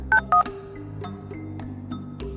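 Two quick touch-tone keypad beeps come first, then soft button clicks over a low background hum, as a phone number is dialed.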